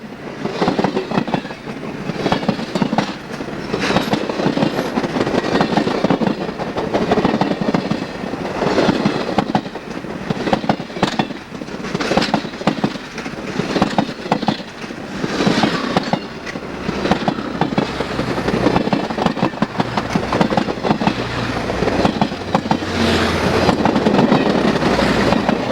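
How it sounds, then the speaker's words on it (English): N&W 611 steam locomotive hauling a long passenger train with three diesels and 25 cars up the Saluda Grade, a steady rumbling clatter of wheels and cars rolling past at moderate distance for the whole stretch. "611 will pull those 3 diesels along with 25 cars"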